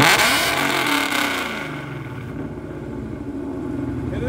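A Shelby GT350R or 2018-2019 Mustang GT exhaust is revved hard at close range, then the roar sweeps down as the revs fall back to a lower rumble and a lumpy idle, with no speech.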